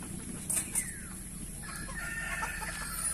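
Chickens and a rooster on a small backyard farm cluck and call in short bursts, with a couple of sharp, close squawks near the start and steady low clucking throughout.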